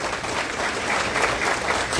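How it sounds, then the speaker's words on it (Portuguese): Audience applause fills the room at a breakfast launch event for the 11th International Book Biennial of Alagoas, a steady, dense burst of clapping that holds its loudness for about two seconds. "nosso deputado Paulão, uma salva de palmas"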